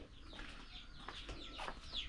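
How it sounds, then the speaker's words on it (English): Backyard chickens behind a house, several soft clucks and brief calls scattered across a couple of seconds, moderately close over a steady outdoor background, no talking. "Also, we're having some chickens."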